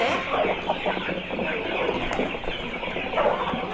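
Kenyan indigenous Kienyeji chickens cluck steadily on a small poultry farm, a dense, overlapping flock chatter that carries without a break, some of the hens going broody.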